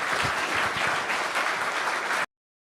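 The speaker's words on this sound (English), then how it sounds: "please join me in applauding our speakers" Steady, dense applause from a live audience for the speakers after a debate panel, loud and sustained for about two seconds before cutting off abruptly into silence.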